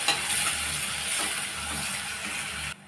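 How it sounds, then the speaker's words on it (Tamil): Steady sizzling of onions sautéing until translucent in a pan for chicken curry, with faint stirring scrapes, continuous and close, ending abruptly. "வெங்காயம் கொஞ்சம் கண்ணாடி பதத்துக்கு வதக்கி விட்டுக்கலாம்."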